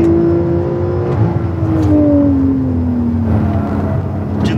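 A new-generation Porsche 911 accelerates on the Velo Città race track, its engine note rising steadily through the gears, loud and close, with a brief shift partway through and a sustained whine.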